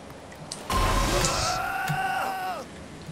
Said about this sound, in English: All right, let's bring the rain.